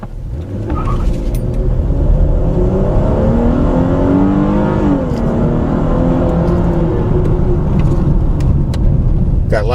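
A 2015 Chrysler 300 with a V6 engine accelerates hard and continuously, its loud close engine note rising steadily in pitch with a brief dip midway as it shifts, then climbing again.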